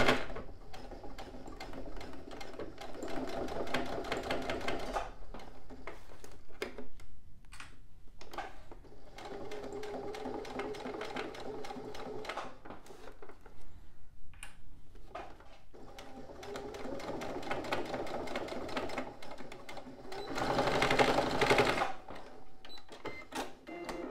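A sewing machine runs in long stitching bursts along a pencil case seam, its rapid mechanical chatter steady and close, pausing briefly between passes before a louder final run.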